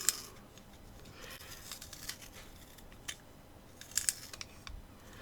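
Staedtler triangular colored pencil being sharpened, a quiet series of dry scraping and crisp shaving clicks in short irregular bursts against a hushed background.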